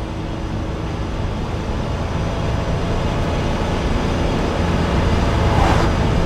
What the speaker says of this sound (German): Ich fahre jetzt gerade im zweiten Gang, knapp 4000 Touren.